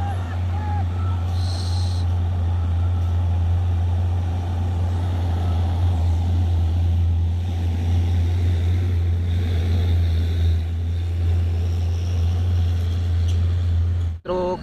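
A Nissan tanker truck's diesel engine drones loud and close with a steady low hum and mechanical rumble, continuous for the whole stretch before an abrupt cut at the end.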